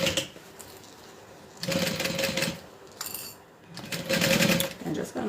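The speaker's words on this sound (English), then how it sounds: "I think I sew it from the lining side." A sewing machine stitches a backpack from the lining side in two or three bursts of fast, even mechanical whirring separated by short pauses, close and clear, with a person speaking quietly between runs.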